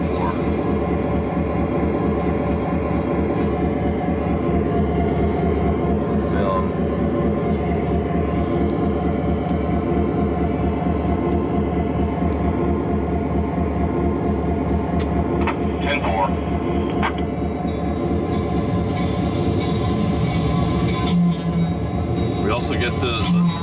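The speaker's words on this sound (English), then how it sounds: "throttle goes and creates the sound of the passing locomotive once it detects it passing us" A DCC model railroad throttle generates the sound of a passing locomotive, a steady rumbling rail-engine drone that stays loud and continuous throughout, with a voice talking over it at times.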